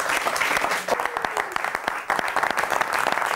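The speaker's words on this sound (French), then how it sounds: "Je crois qu'elle mérite des applaudissements." An audience applauds at a televised music tribute, with steady, dense clapping from many hands that stays loud and continuous and carries a faint murmur of voices beneath it.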